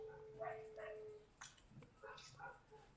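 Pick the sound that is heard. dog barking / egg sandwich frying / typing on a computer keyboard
dog barking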